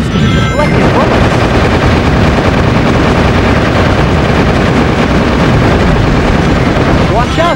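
Constant heavy gunfire and bomb blasts in Shadow the Hedgehog, a dense, loud wall of shots and explosions as black creatures destroy sections of roadway, with game dialogue mixed in.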